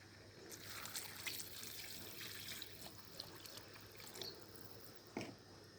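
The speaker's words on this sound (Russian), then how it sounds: "Водичка, смотрите сами, сколько вам нравится, сколько добавляете" Water pours steadily into a pot of Tajik reza-shurpa soup with carrots and potatoes, a soft continuous splashing trickle with a few small clinks near the end, fairly quiet and close.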